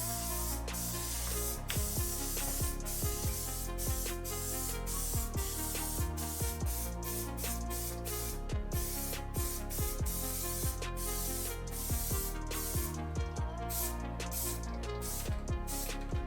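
Spray painting the final coat in a Nissan Skyline R33 engine bay: repeated close hissing bursts of the spray gun, starting and stopping in quick irregular pulses.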